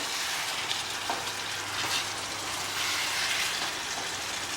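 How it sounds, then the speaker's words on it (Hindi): Fish sizzles steadily in hot oil in a frying pan while being gently stirred, with soft scraping and occasional light bumps over a continuous close, bright frying hiss, no voices. "फिश बहुत ही नाजुक होती है, इसे हल्के हाथ से चलाना पड़ता है।"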